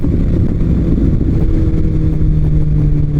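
A motorcycle on a Sunday morning ride, its engine giving a loud, steady, low drone close up, with wind rush and no talk.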